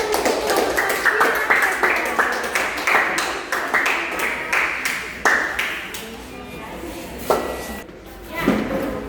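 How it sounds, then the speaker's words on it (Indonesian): A classroom group claps together for classmates after their presentation, sharp hand claps struck in a patterned, rhythmic sequence of bursts that loosens and thins out toward the end. "berikan tepuk tangan untuk kelompok sila"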